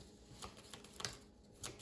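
Playing cards are shuffled for the card game Dead Man's Draw, giving a few quiet riffling flutters and light taps close to the listener in a near-silent room.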